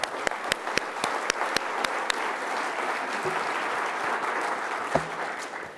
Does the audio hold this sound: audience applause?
yes